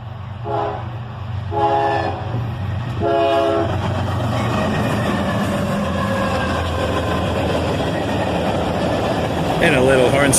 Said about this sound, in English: a little horn salute there from the engineer